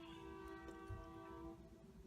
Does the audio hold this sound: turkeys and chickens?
no